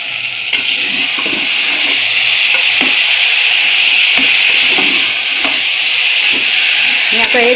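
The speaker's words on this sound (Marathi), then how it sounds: "आता हलवून घेऊया आपण" Moth beans and potato being stirred in a pressure cooker over medium heat: loud, continuous hissing sizzle with repeated scraping strokes of a spoon against metal, close up and without talk.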